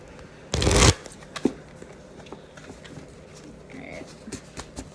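Lover's Path tarot cards being shuffled, a single loud riffling burst of about half a second near the start, followed by a few faint taps and card handling sounds in a quiet room.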